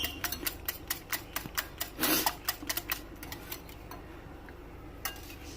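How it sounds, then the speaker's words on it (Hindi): Eggs and sugar are whisked together in a bowl for a no-oven egg caramel pudding, giving a fast series of sharp clinking taps of utensil against the bowl, close and fairly quiet, with a brief louder scrape midway and no talking. "ये देखिए, हम मिक्स कर रहे हैं इसे अच्छे तरीके से, ताकि चीनी और अंडा जो है अच्छी तरीके से मिक्स हो जाए।"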